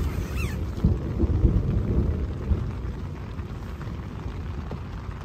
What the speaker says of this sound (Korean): 와, 비 엄청 온다